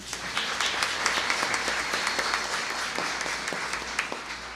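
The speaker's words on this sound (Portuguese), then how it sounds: "professora Elizabeth Ferraz, a qual também peço uma grande salva de palmas." Audience applause at a municipal council session honoring local artists, a full, sustained round of many people clapping, fairly loud, with a few sharper individual claps standing out.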